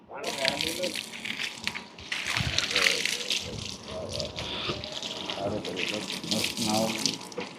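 Water runs steadily from a tap while someone is bathed, splashing and sloshing continuously throughout as voices talk over it.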